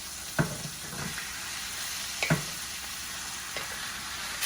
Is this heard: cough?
no